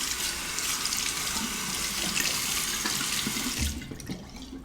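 Tap water runs steadily as a Fatip Il Grande open-comb copper razor is rinsed under a faucet, a close, continuous splashing hiss that thins out and quiets near the end.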